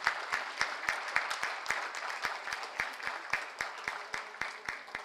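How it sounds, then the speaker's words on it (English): Audience applause at the inaugural day of a space industry congress in India, a steady wash of many hands clapping with sharp individual claps standing out, sustained and fairly loud for the whole stretch. "And a round of applause, ladies and gentlemen."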